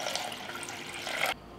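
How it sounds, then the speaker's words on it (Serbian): Water pours steadily into a cooking pot lined with a cloth and packed with glass jars, a close, continuous splashing gush lasting about a second before cutting off abruptly. "Sipat ću vode do visine poklopca."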